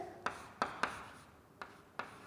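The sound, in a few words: writing numbers by hand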